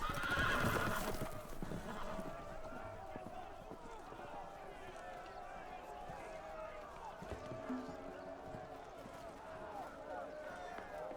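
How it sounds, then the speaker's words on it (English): Loose horses in the Game of Thrones Telltale video game neigh loudly at the start, then hooves gallop and clatter steadily under a busy mix of game sounds and voices. "The horses! They're loose!"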